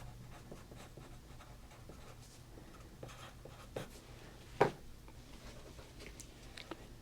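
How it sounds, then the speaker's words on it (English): A pen writes on paper with soft, close scratching strokes and light taps, quiet and intermittent over a low background hum. "I'm going to just write this down."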